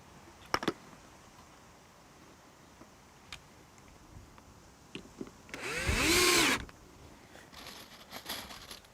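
A power drill drives long screws into a wooden insect hotel, one sustained burst of whirring near the middle, close and loud, with scattered knocks and clicks of handling before and after.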